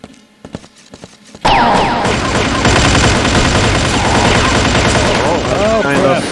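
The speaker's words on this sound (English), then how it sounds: "I'm gonna use the sniper rifle now, so let's see how that works." Sniper rifle gunfire in a video game starts after a few soft clicks, then becomes a loud, continuous barrage of rapid shots that lasts to the end. Faint voices are heard within the noise.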